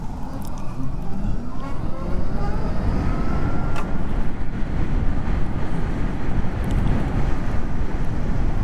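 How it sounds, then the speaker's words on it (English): Heavy wind rushes past the microphone while riding a Zero SR/F electric motorcycle, a loud constant buffeting roar with a faint rising electric motor whine underneath. "It's also quite interesting only having the wind noise, because you can now hear everything the bike's doing"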